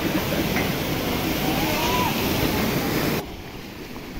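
Kempty Falls waterfall in Mussoorie roars as a steady, loud wash of rushing water that stays level, then drops suddenly to a softer rumble near the end.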